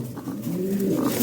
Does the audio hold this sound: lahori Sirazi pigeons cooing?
yes